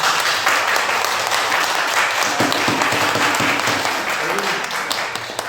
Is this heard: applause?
yes